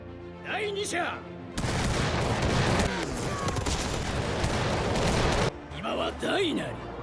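A volley of rifle fire from soldiers in a battle bursts out loud and dense for about four seconds, with narration before and after it.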